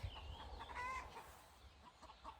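Chickens cluck and chatter nearby in a short burst, with a few rising squawky calls over a low rumbling background.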